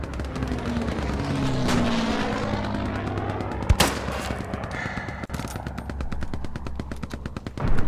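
Gunfire in the World War II shooter Hell Let Loose: dense automatic bursts and scattered rifle shots crackle steadily throughout, with one sharp close shot standing out midway and a low battlefield rumble underneath.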